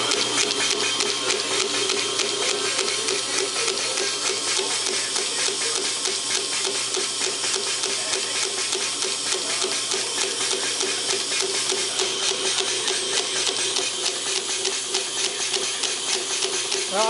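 A vintage 1927 Champion air compressor runs continuously, a steady mechanical hum with fast rhythmic pumping pulses and broad hissing noise, even and unbroken from start to finish.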